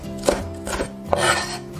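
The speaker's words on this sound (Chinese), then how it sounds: "葱白切小粒" Knife chopping scallion whites into small pieces on a board: three distinct bursts of quick cutting strokes, close and clear, alone with no talk.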